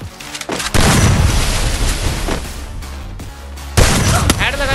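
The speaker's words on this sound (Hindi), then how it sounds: "एक स्नाइपर का फटका और इसका खेल खत्म।" Sniper rifle fire in a mobile battle royale shooter: a few loud, sharp booming shots with a dense crackling gunfight tail between them, close and heavy, with no talk over it.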